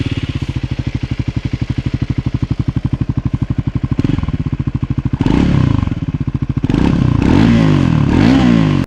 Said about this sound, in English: It sounds just like a slow revving single cylinder 400cc motorbike.